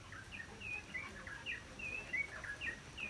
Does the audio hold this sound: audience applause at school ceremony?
no